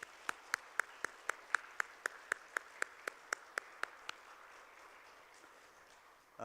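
A few members of a church congregation clap at a prayer service, sharp claps at a steady pace for about four seconds, then fading into quiet room tone.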